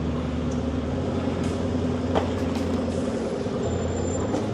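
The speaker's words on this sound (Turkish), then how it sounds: "Burada otobüsler bekliyor." Idling buses waiting on a Paris street give a steady low diesel rumble with a brief hiss or clatter midway, a continuous nearby drone with no talk.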